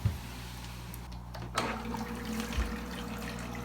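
An Aqueon 75 aquarium filter kicks on and water starts flowing, a low steady hum with a soft gurgle, plus a couple of faint clunks as it starts up.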